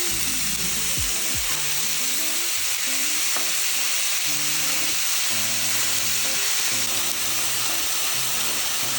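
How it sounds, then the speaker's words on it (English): Loud, steady sizzling of a burger patty frying on a hot griddle, with a few scraping clinks from a spatula and no voices. "Yeah, it's that sizzle that we're looking for."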